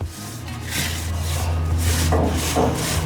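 Steel grill grate being rubbed and scrubbed with oil while steak cooks, a steady close scraping and rasping over a low constant hiss, with strokes growing louder after the first second.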